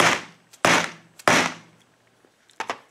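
Lead shot blanks being cut in half, three sharp, loud snapping impacts about half a second apart with ringing decays, followed by a quieter double clack.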